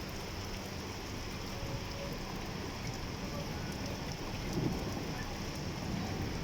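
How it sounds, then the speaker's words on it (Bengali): Steady rain falls in the evening in Qatar, a dense even hiss lasting throughout with a slight swell near the end and faint low rumbles beneath, no clear voice over it. "কাতারে এখন বৃষ্টি হচ্ছে"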